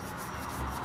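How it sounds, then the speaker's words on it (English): Sandpaper rubs steadily against a hammer handle in a short, close, continuous scratchy stroke with no voices. "Okay, we just finished sanding it."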